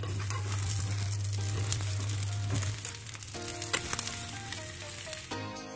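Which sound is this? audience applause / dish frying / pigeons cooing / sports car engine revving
dish frying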